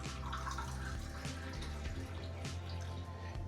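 Water poured into a bowl of batter for frying brain baji in a kitchen, soft continuous trickling and splashing close by over a low background hum.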